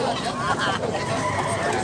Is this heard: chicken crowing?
yes